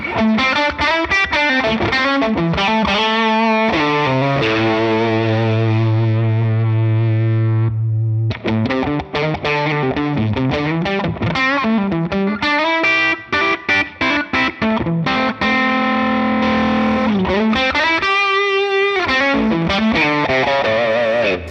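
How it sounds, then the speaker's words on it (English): A heavily saturated, distorted electric guitar through a Helix with saturation boosted before the amp plays chords and sustained notes with a gritty, buzzy tone, loud and continuous throughout. "watch what happens if we crank up the saturation here before the amp"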